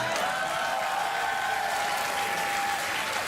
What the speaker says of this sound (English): Go ahead and applaud, because you ain't going to lunch